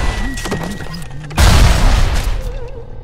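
A grenade blast in BioShock Remastered: a sudden loud, broadband boom about midway through that rumbles and decays over the following second or two, with game sounds before it.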